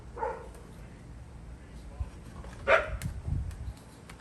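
A dog outside a patio barks and yips a few times, short sharp calls at moderate distance, with faint whimpering between them and no talk.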